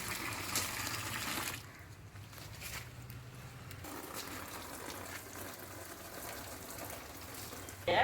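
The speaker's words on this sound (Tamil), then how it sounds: "ரெண்டு தடவை புளிச்சக்கீரையை அலசிக்கலாம்" Sorrel leaves being rinsed in a vessel of water, with steady close sloshing and splashing that runs throughout, briefly softening partway before continuing at the same level.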